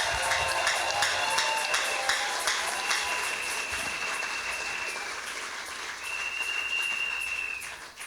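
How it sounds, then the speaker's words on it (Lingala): Church congregation applauding and cheering, dense steady clapping from a crowd for several seconds with bright ringing tones on top, ending in a brief swell of cheering. "Que celui qui est dans la joie puisse acclamer très fort le Seigneur."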